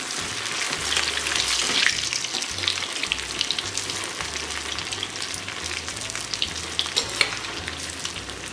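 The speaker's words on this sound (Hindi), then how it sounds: "ब्रेड रोल को फ्राई कर लेती हूँ।" Bread rolls deep frying in hot oil, a dense continuous sizzle and crackle filling the clip at close range, with occasional louder bubbling bursts and no speech.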